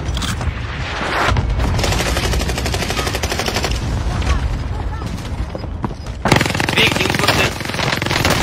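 Gunfire in the video game Warzone, sustained rapid automatic bursts that are loud and dense, with a player talking over the shooting.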